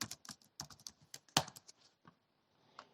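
Keystrokes on a computer keyboard come in an irregular burst of sharp, close clicks, with one louder tap partway through, then trail off into a few sparse presses and near silence.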